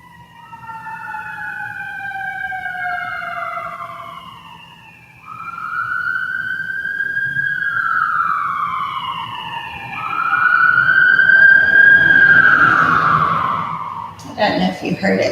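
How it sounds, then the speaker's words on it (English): A wailing fire truck or ambulance siren sweeps up and down repeatedly, growing louder as it passes close by, then cut off by a burst of noise at the end. "I don't know if you heard it, but sounded like a fire truck or an ambulance driving by"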